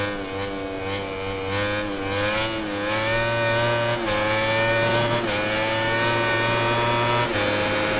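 Motorcycle engine in MotoGP 19 during qualifying, revving high and steady with rising and falling pitch through gear changes, loud and continuous with no talk.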